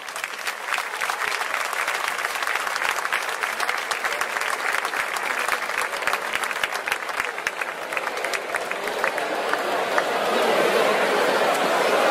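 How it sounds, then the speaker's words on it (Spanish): Audience applause for a flamenco singer and guitarist at a summer fair evening in Arcos de la Frontera, a steady, full crowd clapping with scattered chatter, swelling slightly toward the end. "Un fuerte aplauso para ambos."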